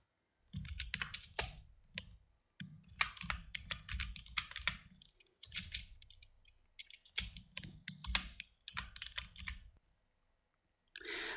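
Someone types on a computer keyboard while entering the text details for a music poster in Photoshop. The quiet, close keystrokes come in uneven clattering runs broken by short pauses.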